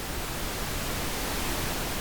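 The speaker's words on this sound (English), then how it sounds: "it's just Reaper's internal pink noise generator" Plain pink noise from Reaper's internal pink noise generator: a steady, even hiss spread across the whole range, holding at a constant level for about two seconds with no other sounds.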